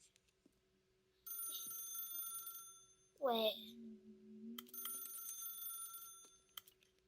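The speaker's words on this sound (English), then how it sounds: "That's the phone." Telephone bell rings twice in the video game The Stanley Parable, two sustained electronic ring bursts separated by a gap, with a short spoken word and a rising voiced sound in between.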